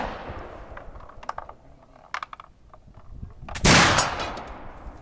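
A flintlock muzzleloading rifle is fired: a few light mechanical clicks come first, then one loud, sharp shot bursts out and fades over the next second.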